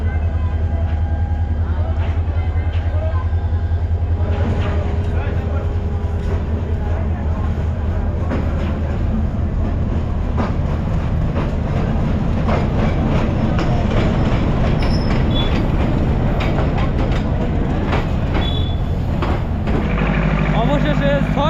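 A passenger train from Dhaka to Jamalpur rumbles loudly and continuously from inside the carriage, with rhythmic wheel clatter and rattling throughout, while people talk underneath.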